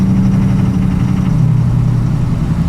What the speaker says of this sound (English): I hear kind of rattling in the engine.